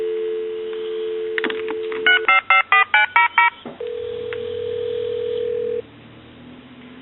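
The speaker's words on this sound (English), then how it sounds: "give you some dial tone" A telephone dial tone hums steadily, then a quick rhythmic run of about eight touch-tone beeps sounds, followed by another steady tone and a low hum.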